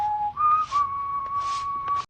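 A man whistles a theme in a clear, sustained tune of held notes shifting in pitch, close and alone against a faint background.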